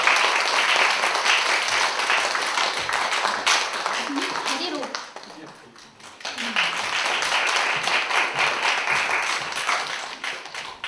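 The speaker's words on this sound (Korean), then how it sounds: "큰 박수로 모실게요" Crowd applause at a traditional Korean music concert in Namwon as a historian is welcomed on stage: dense clapping that dips briefly midway while a voice speaks, then swells again to full strength.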